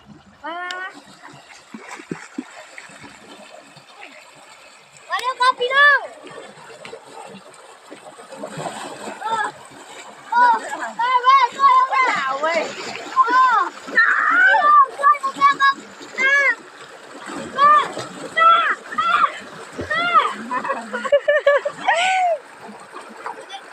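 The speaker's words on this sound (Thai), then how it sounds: "มาเล่นน้ำลงกันด้วยครับ" Water splashes from people playing in a canal, bursts of splashing and sloshing mixed with lively children's and adults' voices and shouts, close and busy for most of the clip.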